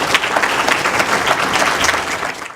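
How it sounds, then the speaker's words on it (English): An audience at a children's center annual meeting breaks into brief, dense applause. The clapping is steady and fairly close and fades out quickly at the end. "You deserve our applause."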